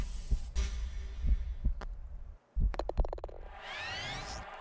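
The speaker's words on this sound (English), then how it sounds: "I have a heartbeat going in the game, and that's super annoying" A heartbeat effect from the golf game Tiger Woods PGA Tour 06 throbs as a low, steady series of dull thumps beneath other game sounds, including a brief dropout and a rising whistling tone near the end.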